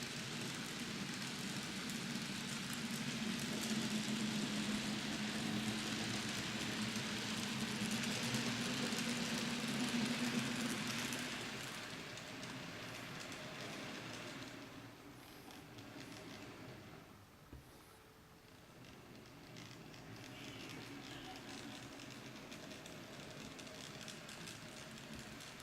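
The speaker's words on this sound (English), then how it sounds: "I'll just bring the other loco so you can see how that would look running out of the station." A small N gauge model locomotive runs out of a model station with a faint, steady mechanical whir and hum, fading somewhat partway through and continuing quietly in the background.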